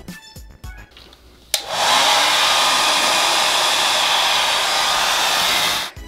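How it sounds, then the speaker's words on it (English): After a few soft clicks and handling sounds, a hair dryer switches on and blows loudly and steadily for several seconds before cutting off. "I'm going to grab my hairdryer and we're just going to see how this works."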